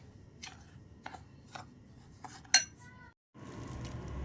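Wheat flour and semolina are stirred and mixed in a bowl, making a few separate scraping, clinking strokes of a utensil against the container, fairly quiet with pauses between, and no talk.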